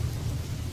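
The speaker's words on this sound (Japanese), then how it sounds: "うわあ、ゲリラ豪雨だ。" Sudden heavy downpour with thunder, heard as a brief, dense roar of rain over a deep low rumble, loud and continuous for under a second with no voices.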